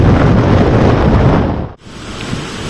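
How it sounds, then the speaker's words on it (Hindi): A violent windstorm with rain over farmland roars loudly as dense wind and rain noise, briefly dipping near the end before the steady downpour and gusts resume. "अब तो आंधी के साथ साथ के अंदर बारिश भी शुरू हो गई है, अच्छी खासी बारिश हो रही है"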